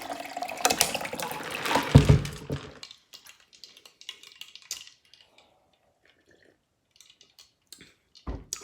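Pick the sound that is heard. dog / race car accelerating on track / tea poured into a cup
tea poured into a cup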